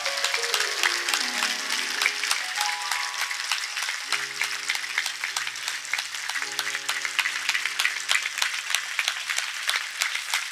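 A satsang crowd at a Hindu religious discourse claps in a steady, dense, continuous wash for about ten seconds, with sustained musical tones droning underneath.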